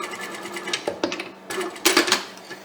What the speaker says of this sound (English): I am going to sew it